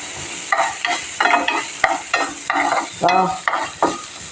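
Urad dal sizzles and crackles in hot oil in a pan, with repeated bursts of frying noise and stirring scrapes at close range.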